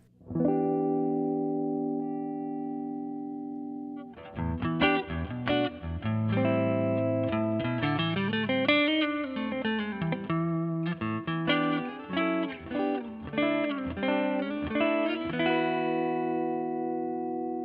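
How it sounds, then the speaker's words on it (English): A G&L Doheny electric guitar on its neck pickup plays a clean sustained chord, then a run of picked notes and chords with a warm, rounded tone, heard alone without any talking. "The neck pickup has a nice tone, is kind of a slightly warmer Strat sound."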